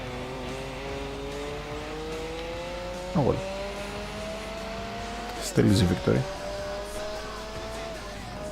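Gran Turismo 4 race car engine drones steadily with rising revs, broken by a few short tire squeals and bumps, while someone talks over the game sound throughout.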